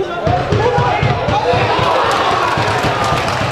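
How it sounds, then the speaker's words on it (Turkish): A football crowd at a Turkish amateur league match, Çankırıspor against Amasraspor, chants and roars loudly and steadily, with rhythmic shouts over a broad din and a commentator's voice on top. "Ben tezahüratlar gelmeye başladı."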